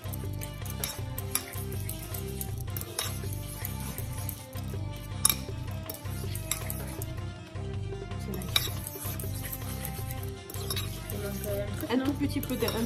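A spoon stirs fish chermoula in a pan with repeated scraping and clinking strokes in a regular rhythm, close and fairly faint, while a person talks over it.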